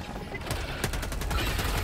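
Rapid gunfire from a player's weapon in Helldivers 2, a dense stream of loud close shots over constant battle noise.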